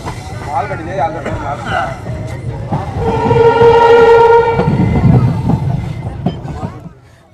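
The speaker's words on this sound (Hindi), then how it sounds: "ये ट्रेन आ चुकी है इसके सुगलवे halt sambar lake railway station पर" A passenger train pulls into Sambhar Lake railway station in Rajasthan. The rumble grows loud as it arrives, with a sustained horn or whistle tone in the middle, and people talk over it.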